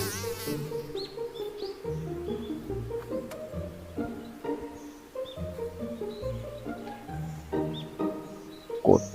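A mosquito buzzing close by at night in a bedroom, a steady, faint, wavering whine that continues throughout.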